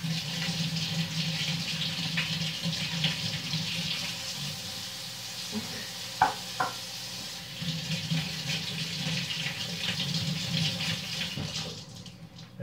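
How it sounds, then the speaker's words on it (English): Kitchen tap water runs steadily into a sink as tomatoes are rinsed, a continuous splashing hiss with a couple of brief clunks midway before the flow stops near the end. "we're going to take our tomatoes, wash them as usual to keep them nice and clean."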